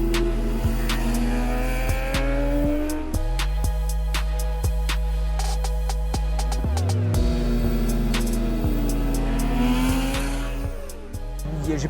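Yamaha R6 sport motorcycle being ridden, its engine droning loud and constant with rising and falling rev sweeps and gear changes, close to the microphone.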